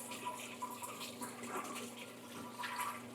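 Tap water running steadily to rinse acid out of a container at an aeroponic tower workshop, a continuous broadband rush of flowing liquid with no pauses.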